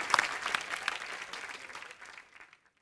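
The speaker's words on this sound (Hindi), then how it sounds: "एक बार सुगंधा के लिए भी जोरदार ताली हो जाए" Studio audience applause on a Hindi TV comedy show set, a dense burst of clapping that fades away over about two and a half seconds, ending in near silence.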